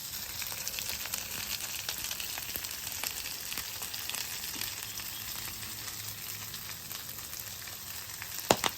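Breakfast potatoes and melting butter sizzle on a Weber Slate griddle, a steady close hiss with scattered crackles and one sharp clank near the end, no talking.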